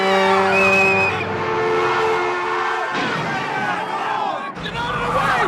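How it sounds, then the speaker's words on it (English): Car chase from a film, with engines roaring and tyres skidding, plus loud sustained tonal squeals and whines that shift and break off partway through, all dense and close with some crowd-like background noise. "Director William Friedkin said he would only use the car chase if it was better than the one in The French Connection"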